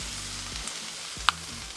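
Oil sizzles on a flat griddle set to medium-low while corned beef hash is being cooked, giving a soft, even frying hiss with a couple of faint scrapes and one sharp click.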